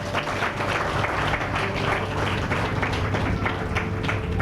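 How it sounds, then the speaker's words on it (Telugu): A church congregation at a Sunday worship service claps for the mothers, a steady, fairly loud wash of many hands clapping throughout with no talking. "తల్లుల కోసం అందరూ ఒక్కసారి చప్పట్లు కొడతారా?"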